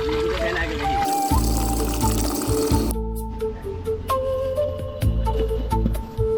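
Bottled water pours steadily into a metal pot for cooking rice, a continuous splashing fill with clinks and handling noises, loud and close.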